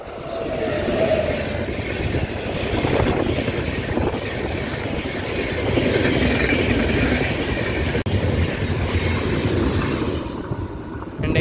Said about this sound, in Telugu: అదిగోండి కాచిగూడ మధురై ఎక్స్ప్రెస్ ట్రైన్ అయితే వస్తుంది. LAP 7 లోకోమోటివ్తో ఫుల్ జెట్ స్పీడ్తో అయితే వెళ్ళిపోతుంది.